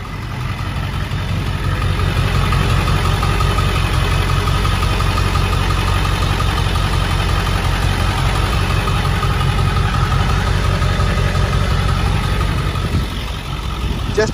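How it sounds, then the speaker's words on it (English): Steady, loud idle of a 2001 Ford Excursion 7.3L diesel truck engine, a continuous low rumble with a faint knocking texture, heard up close. "You can hear the truck running as we speak."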